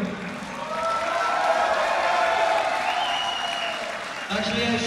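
Steady crowd applause rises and holds at a boxing event, broad and sustained, with a brief dip near the end before clapping resumes.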